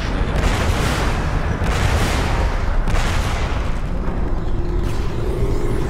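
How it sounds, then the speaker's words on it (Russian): Cannons fire in the video game Crysis, with a string of heavy booming blasts at irregular intervals over a dense, loud rumbling battle background. "Теперь они достали пушки."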